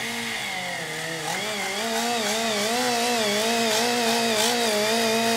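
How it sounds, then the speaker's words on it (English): Angle die grinder fitted with a 3M roll-lock disc, run slowly to take corrosion off a cooling-system part, gives a steady loud whine whose pitch wavers up and down with light pressure. "This is a angle die grinder with a 3M roll-lock disc on it."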